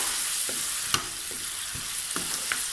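Chopped tomato, green chilli and onion stirred in a hot pan, soft sizzling under a few scraping spoon strokes, close and fairly quiet.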